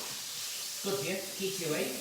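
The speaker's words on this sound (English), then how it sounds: "We're going to hear a bit of a sizzle again." Prawns and beef hit hot vegetable oil in a stir-fry pan, a bright hissing sizzle that swells partway through, while a voice talks over it.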